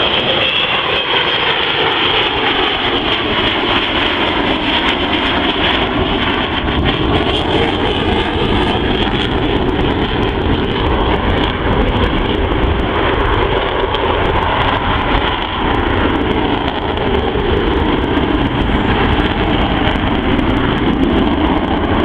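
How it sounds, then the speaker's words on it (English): An Avro Vulcan bomber makes a low gear-down pass at an airshow, its four Bristol Olympus jet engines roaring loud and continuous as they spool up, a dense sustained rumble with a rising whine throughout. "wait for the sound as those Bristol Olympus engines spool up"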